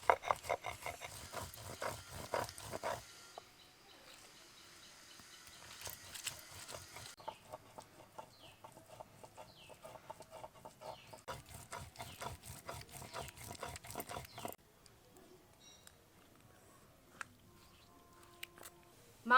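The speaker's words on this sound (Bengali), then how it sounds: "এবার সবগুলোকে একসাথে বেটে নেব।" Cumin seeds and large mild red chillies ground together by hand into a spice paste for Mughlai mutton, a rough repeated rubbing and grinding in steady strokes, fairly close and moderately loud, in bursts with short pauses between.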